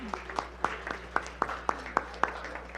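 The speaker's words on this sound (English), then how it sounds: "Let's give everyone a round of applause." A small group claps for the children in a short, faint round of about a dozen separate claps in a loose steady rhythm, close by and thin rather than a full crowd.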